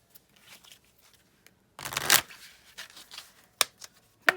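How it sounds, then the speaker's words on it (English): Tarot cards are shuffled hard, with soft riffles and rustles first, then a loud riffling burst and a few sharp snaps of the deck near the end. "I'm a hard shuffler, what can I say?"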